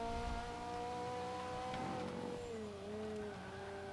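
A-class TVR race car in Forza 5, its engine holding a steady, high-revving tone before the pitch dips as it brakes into a corner, then climbs again; continuous and close, with no talk.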